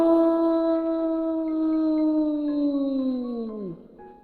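A fox's long, wavering howl, a single sustained tonal cry with a steady pitch that slides down and breaks off near the end, loud and close with no talk.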